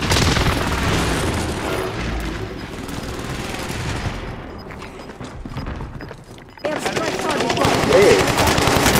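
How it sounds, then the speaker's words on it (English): Dense, loud gunfire and booming blasts from an airstrike in Call of Duty Warzone, a sustained barrage that briefly thins before erupting again, with faint talk underneath. "Airstrike target marked. Take it out."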